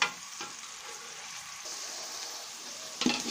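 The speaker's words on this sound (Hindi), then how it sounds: "अब मटरों को थोड़ी देर भूनेंगे।" Peas fry in a pan for vegetable pulao, a steady close sizzle and hiss running throughout, with a sharper clatter of stirring near the end and no voices.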